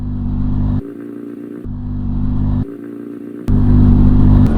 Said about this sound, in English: The exhaust note on this bike, I'm not sure what to make of it.